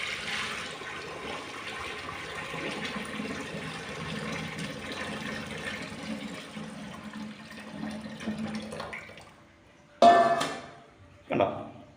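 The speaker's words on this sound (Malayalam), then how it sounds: "നമുക്ക് തിളച്ച വെള്ളം എടുത്തിട്ട് നന്നായിട്ട് ഇത് ഒഴിക്കുക" Boiling water pours steadily down a blocked wash basin drain, a continuous close gush and gurgle that stops abruptly and is followed by two short splashes.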